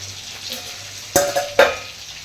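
Tomato frying in a pan with cumin seeds, a steady close sizzle with two sharp stirring scrapes of a utensil against the pan partway through.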